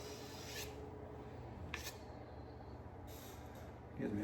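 A homemade aluminum trimming tool, cut and ground to a point, scrapes clay from the bottom of a small pottery mixing bowl in a steady close rasp that runs throughout, with a few brief scratchy accents.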